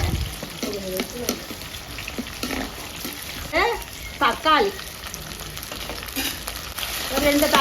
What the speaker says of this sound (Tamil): நல்லா வெங்காயம் தக்காளி நல்லா சுருள வதங்கிட்டு பாருங்கள்